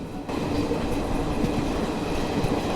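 A train running steadily close by, overtaking the Tirupati–Adilabad Krishna Express on an Indian railway line, with continuous loud rumbling wheel and carriage noise and a faint clickety-clack for the whole stretch, no voices.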